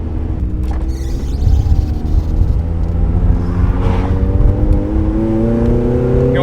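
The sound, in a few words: NB Miata engine through Cobalt axleback exhaust, catless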